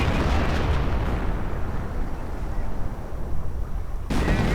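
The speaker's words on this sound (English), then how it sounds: "Bit of artillery." Artillery fire in a strategy war video game rumbles as a dense, continuous barrage of booming explosions, loud and unbroken for several seconds.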